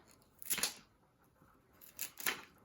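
Two separate bursts of crisp snipping from sharp garden scissors trimming flower stems, a pair of quick cuts followed after a pause by two more, close by with no talking.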